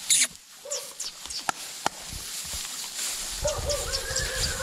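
A mare whinnies in a short, high neighing call, followed by scattered outdoor noises and a faint voice nearby.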